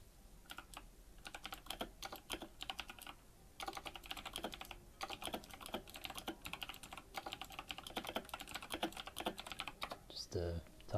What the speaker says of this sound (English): Just typing in chat